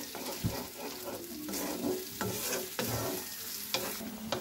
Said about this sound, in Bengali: এটাকে ভালো করে মিশিয়ে নেব। ভালো করে আমি একটু কষাবো।